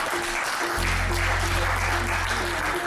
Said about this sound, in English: Pool claps. Pool claps.